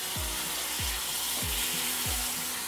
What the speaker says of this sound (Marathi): थोडीशी परतून घेतली की एक टमाटर टाकायचं बघा